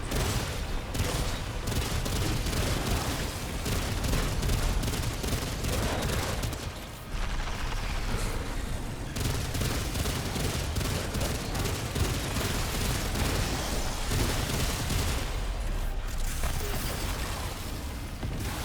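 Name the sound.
automatic gunfire from a sidearm in the video game Remnant 2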